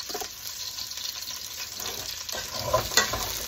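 Smoked pork neck bones stirred into hot frying grease give a steady close sizzle with stirring scrapes, rising into a louder clatter near the end, with no talking.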